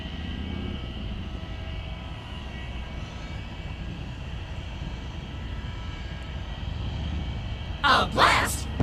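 An MD-11 jet at DFW Airport produces a steady distant engine rumble with high whine tones, under occasional commentary, with a brief bright noise burst near the end.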